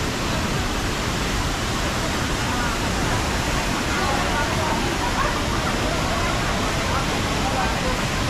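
Sprite Falls, a small waterfall in Majayjay, Laguna, roars as a dense, steady rush of falling water that fills the whole stretch without a break.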